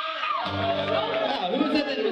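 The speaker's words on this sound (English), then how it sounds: "who was that just screamed really loud for that?" An audience member at a live comedy show screams loudly in a brief shrill burst, while the crowd murmurs and a performer talks over it.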